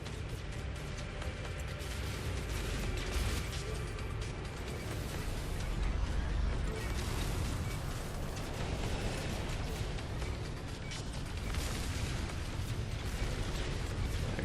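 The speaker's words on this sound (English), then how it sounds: "Cyclotron Ballista, ready to fire." The Cyclotron Ballista weapon fires in the No Man's Sky video game during a space fight, producing a dense, steady roar of bursts and explosive pops that stays loud throughout with no speech.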